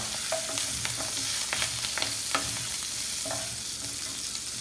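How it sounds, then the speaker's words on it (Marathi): Green chillies and curry leaves fry with mustard seeds in hot oil, a continuous close sizzle broken by repeated scrapes and clinks of a spoon stirring the pan, with no talking. "ही फोडणी आपण थोडी परतवून घेऊया।"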